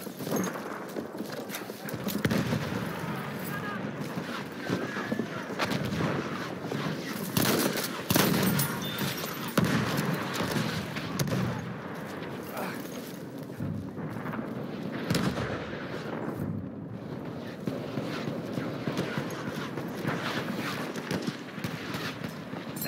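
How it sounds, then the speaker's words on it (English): Battlefield 1 battle scene with dense, continuous gunfire and rattling bursts from a machine gun, layered with explosions and clattering over a busy combat din that stays loud throughout, no talk. "Enemy machine gun sighted."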